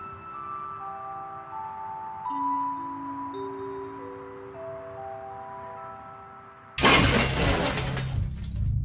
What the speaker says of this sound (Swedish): Sovrumsfönstret är krossat och glasskärvorna har ramlat ner på flickan och mormon